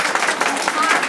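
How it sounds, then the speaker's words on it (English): Meeting audience applauding together, a dense, steady wash of many hands clapping at close range for just over a second, with crowd voices mixed in. "I want you to stand and get a round of applause for that"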